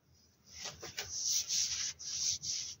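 Synthetic black fabric clothing, not cotton, rustles and swishes in several bursts close by, a papery, leaf-like crinkle rising and falling with the movement, with no one talking.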